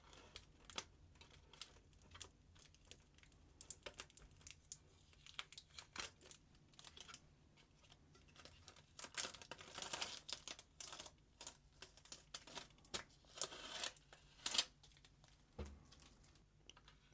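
Protective film peeled off an MSI RTX 5070 Ventus 3X OC graphics card, faint crinkling and tearing with small ticks and rustles, quiet and close, no talking.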